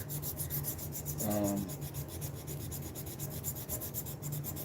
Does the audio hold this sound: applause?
no